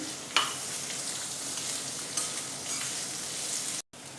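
Chopped onion and ginger sizzle loudly in a hot oiled pan for paneer bhurji, a steady close hiss with a sharp burst as they go in and a stir partway through.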